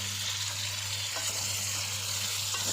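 Chicken sizzles in a karahi for charsi karahi, a continuous close frying hiss with occasional stirring scrapes and a low steady hum beneath.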